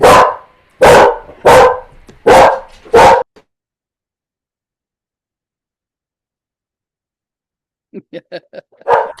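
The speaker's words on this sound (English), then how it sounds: "dogs barking" Dogs bark in the background, a run of five loud barks followed by a pause, then a quicker burst of smaller yips and another bark, with nothing else heard around them.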